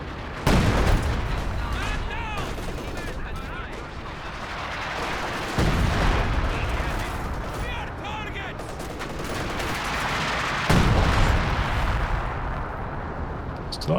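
Mortar shells and gunfire in the video game Company of Heroes 2, dense rattling bursts with several loud booming impacts spaced a few seconds apart over a constant battle din.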